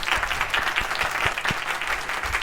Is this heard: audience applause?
yes